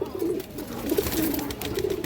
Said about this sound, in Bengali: এই দেখেন ওরা ডাকটা দেখেন দর্শক